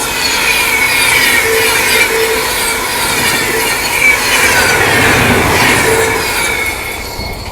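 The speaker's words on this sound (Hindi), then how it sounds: "हावड़ा नई दिल्ली राजधानी एक्सप्रेस" Howrah–New Delhi Rajdhani Express passing, a loud continuous rumble of coaches rolling on rails with faint wheel squeal, steady and close throughout.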